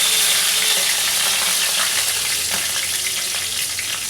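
Continuous close sizzling and crackling of whole garam masala and bay leaf frying in hot oil, steady and fairly loud throughout.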